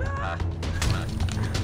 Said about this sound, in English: I spot a free range chicken.